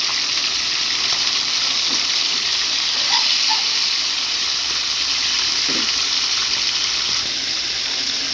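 Food sizzles and fries steadily in a non-stick pan, a dense continuous hiss with occasional small pops and spatters, close and fairly loud, no talking.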